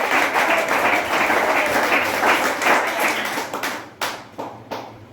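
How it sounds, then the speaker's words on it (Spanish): A crowd at a church service applauds loudly and steadily, then the clapping thins out into a few scattered, separate claps near the end. "denle fuerte ese aplauso al Señor"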